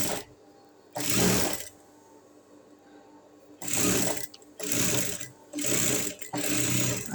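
Close, fairly quiet bursts from a sewing machine stitching the facing of a saree blouse, a short run followed by several longer runs with brief pauses between them.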